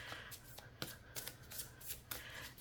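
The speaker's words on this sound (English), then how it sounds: "I like to shuffle on camera and I like the cards to jump" Wild Unknown Tarot cards are shuffled close up in a series of crisp riffling bursts and soft slaps, quiet and irregular in rhythm.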